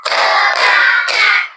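A school class claps together in rhythm, three crisp bursts of many hands in quick succession, loud and close, with no talking over it.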